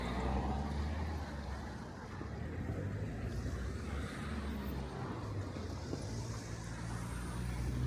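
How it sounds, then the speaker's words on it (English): Steady, noisy road traffic rumbles through the town of Duras in the French Dordogne, a continuous low engine drone of passing cars and trucks with a hiss of tyres and no talking. "Lots of very noisy traffic."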